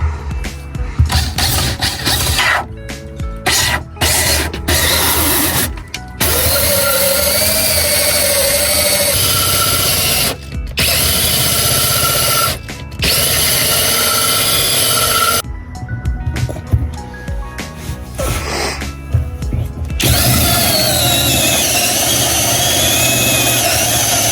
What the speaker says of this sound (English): So drilling the hole for the diesel heater.